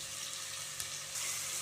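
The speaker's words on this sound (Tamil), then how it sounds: "2 தக்காளி பொடியாக நறுக்கியிருக்கேன், இப்போ அதையும் சேர்த்துக்கிறேன்." Two finely chopped tomatoes go into a hot pan for a Kovai-style rice and dal dish, giving a brief, steady, close sizzle with a soft crackle.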